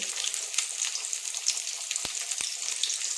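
Prawns or ingredients for a prawn malai curry fry in hot oil, giving a continuous bright sizzle and crackle close by, steady throughout, with two brief low knocks near the end and no talking.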